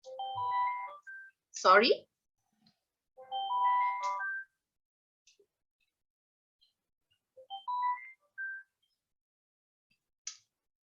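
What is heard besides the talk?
phone ringing during a lecture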